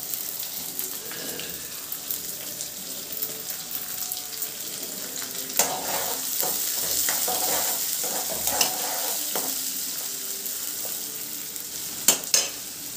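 Chopped onion with ginger pieces fries in a pan and gives a steady bright sizzle, with repeated scraping stirs and a few louder clacks of the spoon near the end.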